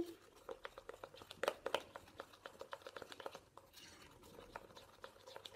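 Body cream being mixed in a container, a quiet run of soft, rapid tapping and scraping strokes with a few sharper clicks, close and faint throughout.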